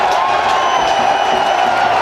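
A stadium crowd at a One Day International cricket match in Hamilton roars and cheers loudly and continuously for Virender Sehwag's century, a dense, sustained wall of noise with whoops mixed in.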